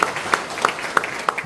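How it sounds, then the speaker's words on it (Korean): An audience applauds at a Busan public lecture on relocating the Ministry of Oceans and Fisheries, with steady claps and one sharp clap peaking roughly every third of a second. "박수 맞아주시면 고맙습니다."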